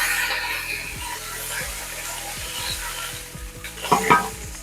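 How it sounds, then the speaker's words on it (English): Vegetables sizzle and crackle in hot oil as a utensil scrapes and stirs through the pan in several rhythmic strokes, close and clear. "Still gonna sizzle. We still have some really hot oil, so be careful you don't splatter yourself."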